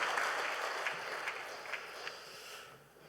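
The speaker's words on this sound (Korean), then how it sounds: "우리 박수로 환영하겠습니다." A church congregation claps during a Sunday service to welcome a newly registered family, a brief burst of dense applause that thins and fades out within a few seconds.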